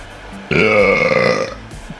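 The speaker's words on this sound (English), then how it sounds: "That heat gun made a weird sound, eh?" A heat gun being used on cable during a V8 engine swap into a Toyota Cressida lets out an odd, loud, belch-like groaning tone lasting about a second, rising abruptly and then fading back into quiet room noise.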